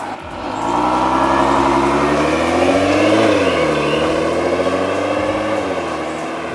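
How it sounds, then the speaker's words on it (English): A Nissan GT-R with an ARMYTRIX exhaust in comfort mode accelerates steadily, its smooth engine tone climbing, dipping briefly, then rising again, loud and close with no talk. "So we'll go back to comfort. He'll just do a nice acceleration"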